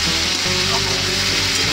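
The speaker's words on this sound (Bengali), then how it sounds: "ভালো করে এগুলোকে ভেজে নেওয়া যাক" Chicken pieces for doi chicken frying in hot oil, a loud, dense, continuous sizzle heard up close without pause for under two seconds, no talk.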